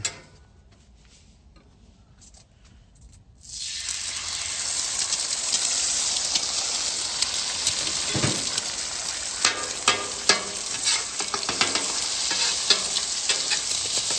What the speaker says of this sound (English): We're just going to throw a little bit of vegetable oil on there. We're going to spread that out, and then we're going to throw our eggs on.